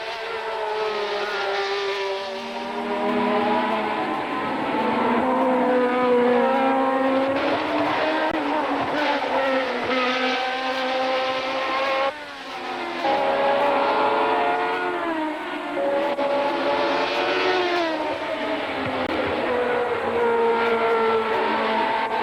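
1975 Formula 1 cars racing, with Ferrari leading, high-pitched screaming engines rising and falling in pitch as cars pass one after another, loud and continuous with brief dips between passes.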